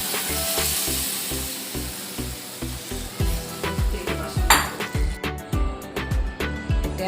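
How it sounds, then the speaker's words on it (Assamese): Boiled moong dal poured into a hot pan of tomato, a loud hiss and sizzle at first, then steady bubbling with repeated stirring scrapes and clinks toward the end; no onion or garlic. "এতিয়া মই বইল কৰা দাইলখিনি ইয়াতে ঢালি দিলোঁ।"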